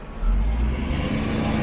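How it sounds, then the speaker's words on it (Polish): Truck passing close by on a street near construction sites, a loud, low rumbling engine swelling in within the first moment and holding steady. "Akurat ciężarówka przejeżdża, sorry za hałasy."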